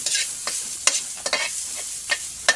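Onion and garlic sauté in a hot pan, with soft frying sizzle and repeated scraping strokes as a utensil stirs them at an even, unhurried rhythm.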